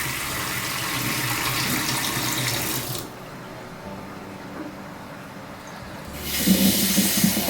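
Tap water pours steadily into an Aarke Purifier filter jug being refilled, a loud hissing stream that breaks off for a few seconds and then resumes.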